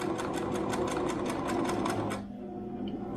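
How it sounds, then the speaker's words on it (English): Sewing machine stitching a homemade fabric face mask, running in a fast steady burst of needle strokes for about two seconds, then stopping and leaving a quieter background hum. "So we're just gonna go ahead and stitch here, and we're gonna get down to the corner."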